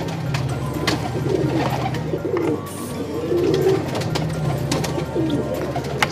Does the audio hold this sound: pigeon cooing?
yes